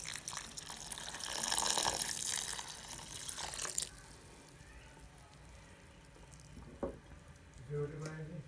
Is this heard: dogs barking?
no